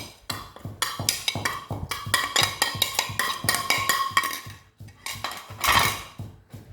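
A Thai pork skin salad with dried shrimp is tossed in a bowl, giving a rapid run of clinking, scraping utensil-on-dish strikes with brief pauses, close and fairly loud, with no talking.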